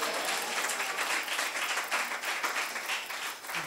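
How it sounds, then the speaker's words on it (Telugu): A church congregation claps together at a Telugu prayer gathering, a dense, steady wash of many hands applauding loudly throughout with no talk over it. "చప్పట్లు కొడతాం హల్లెలూయా."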